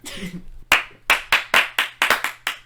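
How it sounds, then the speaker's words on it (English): A small group claps in a loose rhythm, about eight loud, close claps following a brief murmur of voices at the start. "and they all clapped."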